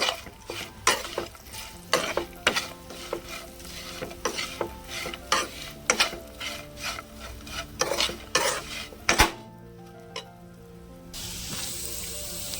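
Potatoes tossed into a pan and stirred, a run of sharp rhythmic scraping and clinking strokes of a utensil against the pan over a soft frying hiss, ending in a quieter steady sizzle.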